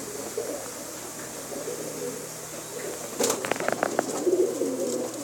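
Pet pigeons of the Neeli Patti and Kala Cheena breeds, housed as a pair, give a few low cooing calls partway through against a steady background hum, with light flapping or shuffling sounds nearby.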